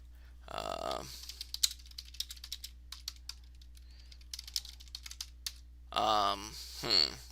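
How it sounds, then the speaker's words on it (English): Bursts of clicky computer keyboard typing at moderate distance, tapping in short uneven runs, with a person talking briefly at the start and end over a low steady hum. "I'm gonna type this into the chat."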